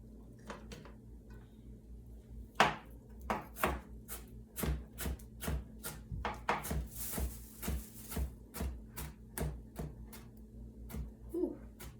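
A knife chops onions on a board in quick, irregular strokes, crisp close taps repeating steadily for several seconds with small pauses, fairly quiet and with no talking.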